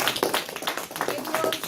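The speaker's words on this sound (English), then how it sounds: "we are going to welcome with a loud applause Toastmaster Manjunath Ramaswamy" An audience at a Toastmasters club meeting applauds to welcome a speaker giving a CC2 speech, fairly quiet, close clapping with uneven bursts.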